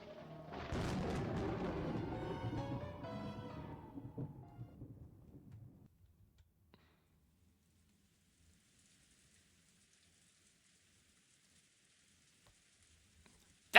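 Rain falls in a scene from the video game Umineko When Seagulls Cry, a dense hiss under a musical swell for the first six seconds, then fading to near silence with a faint high wash afterward.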